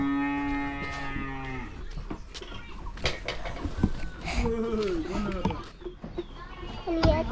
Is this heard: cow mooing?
yes